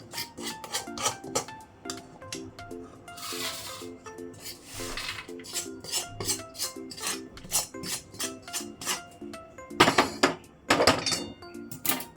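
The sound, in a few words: scraping green moong ladoo mixture from pan onto plate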